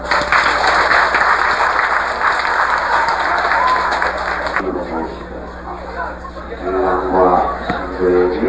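Loud, sustained applause from a crowd at a wedding ceremony, continuous clapping that thins slightly midway while an officiant's voice carries over it.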